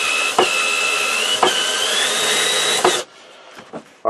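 A power drill whines steadily for about three seconds as it drives a screw into wood while building a small workbench, then stops, followed by a few light knocks and clicks.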